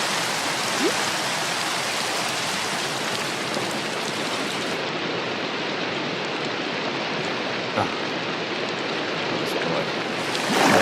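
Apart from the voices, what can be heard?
rain in a modded survival video game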